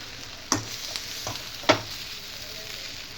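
Bread upma stirred in a hot pan gives a faint steady sizzle, broken by a couple of sharp scraping clinks of the spoon against the pan.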